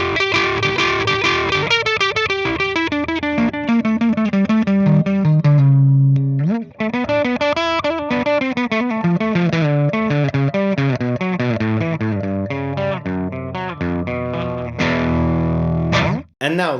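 Heavily distorted electric guitar plays loud, sustained chords and riffs with a gritty, saturated tone, continuous and close, briefly pausing near the end.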